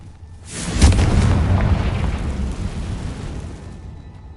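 A Confringo spell blast in the video game Hogwarts Legacy, one loud deep booming explosion that swells quickly and rumbles on for several seconds.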